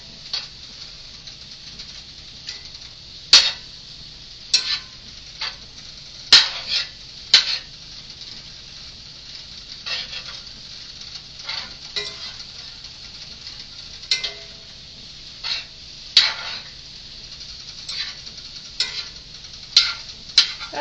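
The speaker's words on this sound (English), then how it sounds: "Stir to combine all ingredients" Broccoli and beef in a Chinese stir-fry pan, a soft continuous sizzle broken by repeated clinking scrapes of a utensil against the pan at an uneven pace, close-up with no talking.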